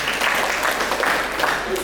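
A crowd of about 10,000 at a school orientation event applauding steadily throughout, dense and continuous clapping with a voice briefly audible over it.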